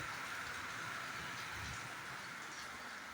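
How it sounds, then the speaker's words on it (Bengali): Soft, steady rainfall patters in a continuous hiss, faint and even throughout with no voices. "অবশেষে বৃষ্টির দেখা মিলল"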